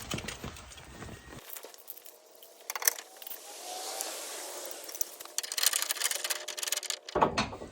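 A safety chain being hooked onto the tow bar for flat-towing a Ford Bronco gives close metallic clinks and rattles, scattered in bursts with some rubbing and scraping between them.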